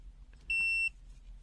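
A BSIDE A5 CAT III 600V 6000-count multimeter in auto mode gives its continuity beep: one short, steady, high-pitched tone over a quiet background.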